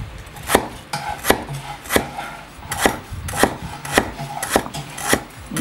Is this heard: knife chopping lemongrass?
yes